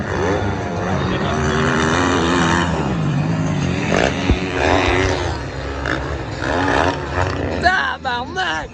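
Amateur ATV racing engines roar and rev continuously nearby, with rising and falling throttle sweeps near the end, while voices mingle in the background.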